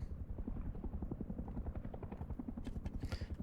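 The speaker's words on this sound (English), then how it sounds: "So the helicopter is an NPC helicopter, I believe." An NPC helicopter in the video game Rust flies overhead, its steady rotor chop thumping rhythmically throughout with a loud, close drone and no speech.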